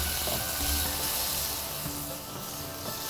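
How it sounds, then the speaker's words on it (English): Tomatoes fry in a pot for masala chicken pulao, giving a steady close sizzle and hiss with faint clinks and rustles, no talk over it. "as you can see, the tomatoes are frying."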